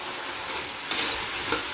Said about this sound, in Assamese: ৰাতি খাব কাৰণে লেচেৰা আলু ভাজি বনাইছোঁ